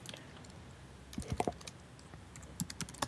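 Quick bursts of typing on a computer keyboard, entering a command in Minecraft, with soft clicks that come in short irregular clusters, close and fairly quiet.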